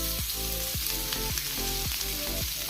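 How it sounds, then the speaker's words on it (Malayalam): Chopped garlic, onion and ginger sauté in hot coconut oil in a pan for Kerala-style pearl spot fish. A steady, close sizzle carries a regular rhythm of scraping spatula strokes, with no voices. "ആ പാനിലേക്ക് തന്നെ, ആ വെളിച്ചെണ്ണയിലേക്ക് തന്നെ നമുക്ക് അരിഞ്ഞു വെച്ച വെളുത്തുള്ളി, മുള്ളി, ഇഞ്ചി എല്ലാം ഇട്ടൊന്ന് വഴറ്റി കൊടുക്കാം"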